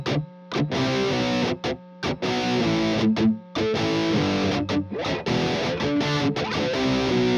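A song's riff is played slowly on a heavily distorted electric guitar, with sustained power chords broken by short muted gaps and dead strums in a loose, halting rhythm.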